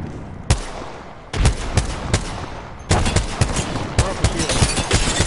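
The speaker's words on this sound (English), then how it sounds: "Keep it up, I'm getting shot at." Apex Legends firefight, a close burst of rapid gunshots cracking in clusters, with sharp bangs and fast automatic fire spread across the stretch over a noisy background.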